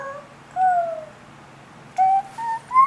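A 16-month-old child imitating a bird's chirp, voicing a drawn-out whistle-like tone followed by a quick series of three short rising chirps, close and clear with no other talk.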